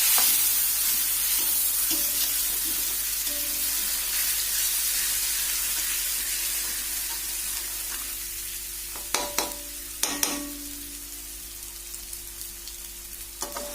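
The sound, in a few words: water added to cooked spice paste sizzling in pan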